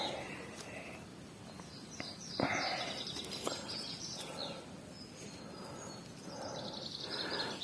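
Small songbirds chirp and tweet faintly at a bird-catching spot outdoors, with brief scattered calls and handling noise nearby.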